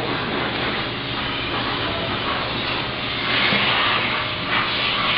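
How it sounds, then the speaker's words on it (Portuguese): Heavy rain pounding on a house roof, a dense, steady roar that fills the space loudly and continuously, swelling slightly near the end, with no voices. "desde já me desculpa esse barulho que está lavando meu telhado"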